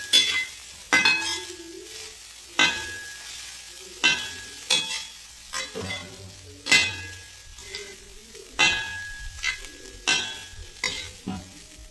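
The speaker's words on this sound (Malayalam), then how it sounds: "നല്ല ചൂടാണ് ഉരുളിക്ക്, അതുകൊണ്ട് പെട്ടെന്ന് ഇത് വറുത്ത് കിട്ടും." Repeated scraping and stirring strokes in a very hot uruli, each stroke a sharp metallic scrape followed by a crackling sizzle, close and rhythmic.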